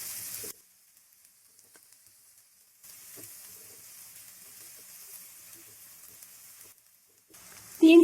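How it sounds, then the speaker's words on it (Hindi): Green onions sizzle in a hot pan during a chicken pasta recipe. The frying hiss comes in bursts: a short burst at the start, a long steady stretch through the middle, then a louder return at the end, with near-silent gaps between. "ये ग्रीन प्याज मैंने लिए 3 अदद, ये भी ऐड करेंगे। 2 से 3 मिनट हम इसको भी फ्राई करेंगे।"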